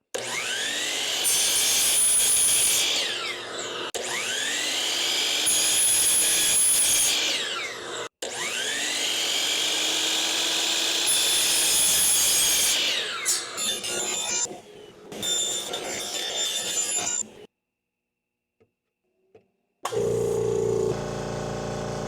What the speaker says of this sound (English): I'm just going to cut it with the miter saw